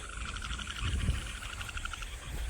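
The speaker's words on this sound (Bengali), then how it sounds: "কোন ব্যাঙে ডাকাডাকি নিয়েছে" Frogs croak in a rural Bangladeshi village setting, a steady pulsing chorus of repeated calls running throughout, moderately close and continuous over a low breezy rumble.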